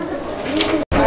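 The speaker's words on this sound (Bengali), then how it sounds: "এটা হচ্ছে একটা বিখ্যাত কবুতর, ইরানি টগি কবুতর, রেড কালার ইরানি টগি" Red Irani Togi pigeons give a low, soft coo close by, with a person talking over it, and a brief dropout near the end.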